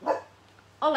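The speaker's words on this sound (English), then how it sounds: "you'll have to excuse the dogs barking." A pet dog in a suburban home barks loudly and close by, two sharp barks framing a brief gap, with a voice speaking over them.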